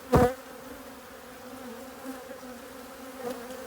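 Honey bees buzz in a steady, fairly quiet drone throughout a hive inspection, opening with a brief sharp knock or clunk and a faint thud near the end.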